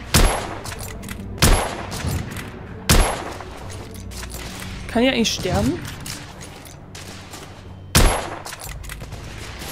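Gunfire in The Order 1886 video game, with several sharp, loud shots at irregular intervals and a German voice talking between them over a busy battle backdrop.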